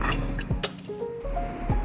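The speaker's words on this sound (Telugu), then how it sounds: "నేనైతే నార్మల్ వాటర్ వేసుకుంటానండి. నీళ్ళు వేసుకుంటాను." Plain water poured close-up into a blender jar of chopped carrots for carrot juice, the gurgling fill rising steadily in pitch as the jar fills, with a couple of soft knocks and no talking.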